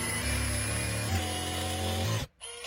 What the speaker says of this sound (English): we're just using a hammer drill here with a small bit